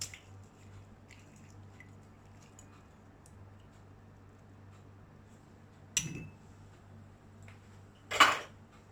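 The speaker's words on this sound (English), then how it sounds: "half Lime squeeze பண்ணிக்கலாம்." Half a lime is squeezed by hand for a healthy salad dressing of olive oil, lime, sugar and salt, giving two short wet squishes with a drip against a quiet kitchen background and no speech.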